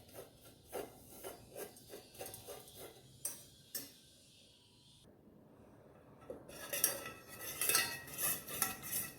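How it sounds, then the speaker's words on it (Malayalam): A spoon scrapes and stirs sugar caramelizing in a pan on a low flame, giving rhythmic metallic scraping strokes, then a pause, then quicker, louder rasping stirs, close and without voices. "ഫ്ലെയിമൊക്കെ കുറച്ച് വെച്ച് വേണം ഈ പഞ്ചസാര ഒന്ന് കാരമലൈസ് ചെയ്തെടുക്കാൻ."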